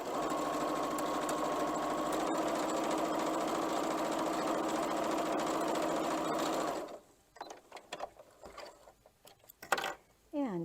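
A sewing machine stitches a 1.5 inch quilt strip with a quarter inch seam, running in a steady, fast whir for about seven seconds, then stopping into quiet handling clicks and fabric rustles.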